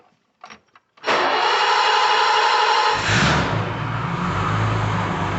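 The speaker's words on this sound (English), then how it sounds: "That sounds like a running car." A 1985 BMW 635 CSI engine cranks after a few faint clicks, catches and settles into a steady, loud running idle with the muffler refitted, close and without talk.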